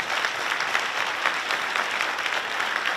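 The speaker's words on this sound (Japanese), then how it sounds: "皆さん、ぜひ拍手をお願いします。" An audience applauds the simultaneous interpreters at a symposium, a steady, dense wash of clapping that carries evenly through the whole stretch with no voices over it.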